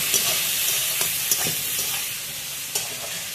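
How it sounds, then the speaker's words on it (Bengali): Vegetables seasoned with salt and turmeric sizzle steadily in hot oil, broken by a few soft stirring knocks, close and continuous. "এবার এটাও খুব ভালোভাবে লাল লাল করে ভেজে তুলে নেব।"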